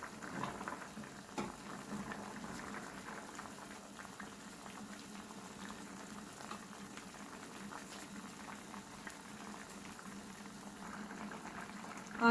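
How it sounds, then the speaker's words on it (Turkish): A pot of quince jam boils hard, giving a continuous close bubbling and popping that holds steady and fairly quiet throughout, with no voices heard. "göbek ata ata kaynamaya devam ediyorlar"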